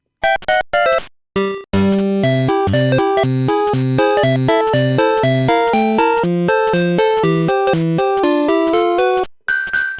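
Loud chiptune music from the Game Boy's combined sound channels: a few quick opening blips, then a busy melody over pulsing bass and noise percussion, ending abruptly.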